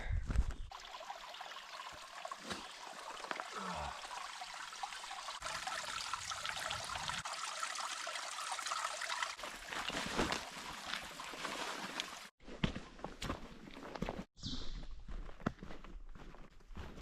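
A small stream trickles and gurgles close by at a water refill stop on the Appalachian Trail, with a continuous watery rush broken by a few abrupt shifts and handling sounds.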